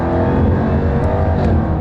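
A Jaguar XE SV Project 8 engine accelerates hard. A loud, continuous roar with dense, sustained power runs throughout, close and unbroken, with no talking.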